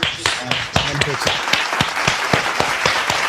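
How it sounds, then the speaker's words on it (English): Inserted audience applause sound effect of a crowd clapping steadily and loudly for a few seconds during a podcast, with voices talking over it. "That's the audience sound that we definitely insert in."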